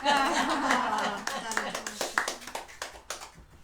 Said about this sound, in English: I just feel like I want to clap.